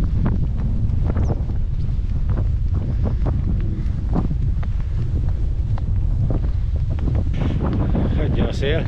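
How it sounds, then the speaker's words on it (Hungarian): Strong headwind blows into the microphone on a flat countryside hiking trail in Hungary, with constant low roaring buffeting and irregular loud gusty thumps throughout. "Ó, szembe megint a szelet."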